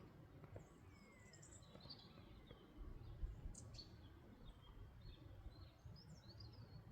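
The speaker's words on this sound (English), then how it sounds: "Nice calm day, birds singing." Small birds chirp and warble faintly at a distance across quiet countryside farmland on a calm day, the short calls scattered over a low ambient background.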